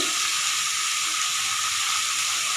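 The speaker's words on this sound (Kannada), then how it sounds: "ಈಗ ಹಾಗಲಕಾಯಿನ ಚೆನ್ನಾಗಿ ಫ್ರೈ ಮಾಡ್ಕೊತಾ ಇರೋಣ." Chopped bitter gourd frying in oil in a pan gives a loud, steady, dense sizzle and hiss, close up and continuous with no talk.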